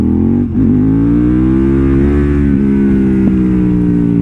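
A KTM 990 SMT supermoto's V-twin engine holds a steady, loud rev under throttle for a wheelie, a brief dip near the start, then a sustained droning pull close by with no talk.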